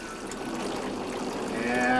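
Plain water pours and trickles steadily as a photographic print is washed, a continuous rushing flow that grows slightly louder toward the end.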